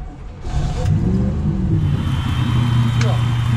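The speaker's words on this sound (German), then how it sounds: "dann gucken wir mal, ob der Motor das macht, was er machen soll, nämlich anspringen" A boat motor on the Havel river starts up and settles into a steady running drone, close by, with voices talking over it.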